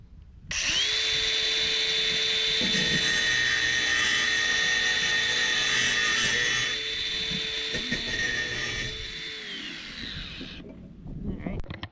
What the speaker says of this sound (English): this rivet didn't come off, so I have the grinder. Grind.